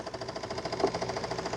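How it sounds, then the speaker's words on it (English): The brush roller of a Shark Matrix Plus AV2610WA robot vacuum and mop makes a soft, steady, rapidly pulsing flapping whir close by, running continuously without talk. "that little noise you hear, that little flapper, that is the brush roller. That is a normal sound."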